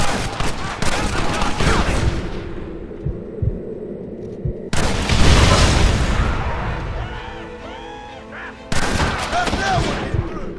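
Gunfire in the Western video game Red Dead Redemption: bursts of shots crackle in dense volleys, with a break near the middle, and voices talk over parts of the fight.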